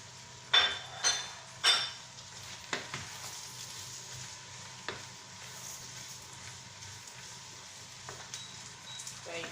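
Fried rice with carrot is stirred in a pan: a few sharp metallic clinks of a utensil against the pan at the start, then a soft, steady sizzle with occasional scraping taps.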